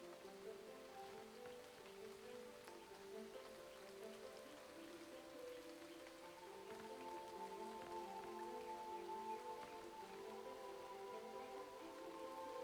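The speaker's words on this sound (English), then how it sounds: "it's going to start raining." Rain falls in the video game Starbound, a soft, steady patter and hiss that holds evenly throughout with no talking.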